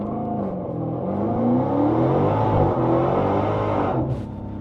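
A Dodge Demon 170 in track mode roars down a private runway under hard acceleration, its loud engine note climbing steadily in pitch through a long continuous pull before easing off near the end.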